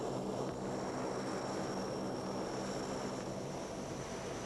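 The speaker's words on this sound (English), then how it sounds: "This Australian Air Force transport plane brings in a much-needed lorry loaded with dried milk powder for hospitals." An Australian Air Force transport plane drones steadily with a constant engine hum, heard alone with no talk.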